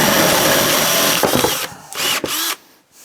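A power drill bores into a wooden dowel for a Festool Domino-style joint, a loud steady whir for over a second, then short bursts as the bit is pulled back and run again, stopping near the end.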